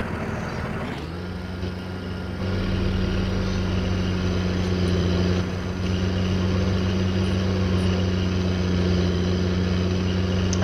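A farm tractor engine in Upper Bavaria drones steadily under load as it pulls, a deep continuous rumble that steps up in intensity after a couple of seconds and holds.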